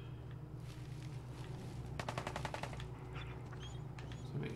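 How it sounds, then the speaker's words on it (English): A quick rattling burst of rifle fire from a trapper in Fallout 4's Far Harbor, several rapid shots fairly distant over steady ambient hum, followed by a few scattered fainter cracks. "Somebody's shooting. Guessing that's a trapper."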